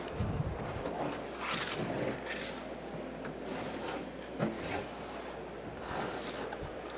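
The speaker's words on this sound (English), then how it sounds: "using, again, the mortar with a V-notch trowel" A V-notch trowel spreads mortar while a shower system is being installed, producing soft, continuous scraping and rasping strokes that are fairly faint and close, with no talking.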